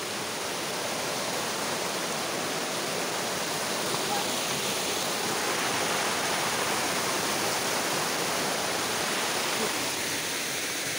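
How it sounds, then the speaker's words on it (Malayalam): Water pours steadily at Dhoni waterfall in Palakkad, a dense, loud, continuous rush that fills the whole scene without break. "ഇപ്പോൾ എന്തായാലും നല്ലൊരു കൊള്ളാവുന്ന ടൈപ്പ് ഒരു ഫൗണ്ടൻ വാട്ടർ ഫോൾസ് വന്നിട്ടുണ്ട്."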